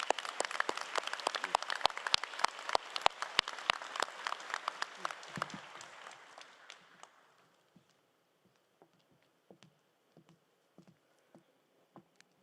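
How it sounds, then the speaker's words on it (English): An audience at a convocation ceremony applauds, a dense burst of clapping for about seven seconds that thins out into a few scattered claps. "we're going to give her a round of applause, even though she's not here"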